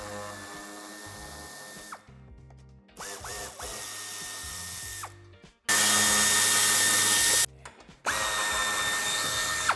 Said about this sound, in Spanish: Para desmontar el paragolpes tendremos que quitar un tornillo a cada lado del paso de ruedas y dos